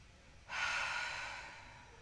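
A single soft exhale during a yoga relaxation exercise, starting abruptly and tapering off over about a second and a half, close and quiet with no talking.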